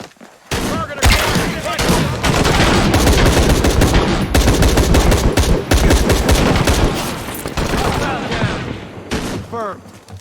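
Dense, loud gunfire from Shadow of the Tomb Raider: rapid overlapping shots and automatic bursts run almost continuously for ten seconds, with voices calling out over the shooting.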